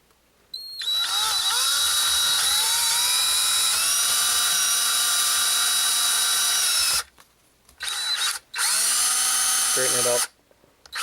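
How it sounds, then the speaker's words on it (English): A power drill with a 1/4-inch bit bores into a Hasbro Iron Man Iron Flyer toy. The high motor whine runs loud and close for several seconds, cuts off, then comes back in two shorter bursts. "we're going to drill in through here with a 1/4-inch drill bit"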